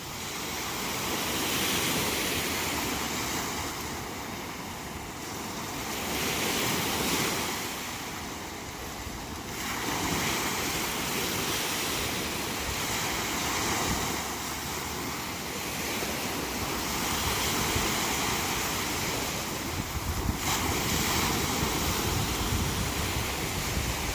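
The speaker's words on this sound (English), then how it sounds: "I'm going to end the video with nothing but the sound of the waves" Waves rolling onto the shore at Presque Isle, a steady broadband wash with surges swelling and easing every few seconds, mixed with wind noise on the microphone and no voices.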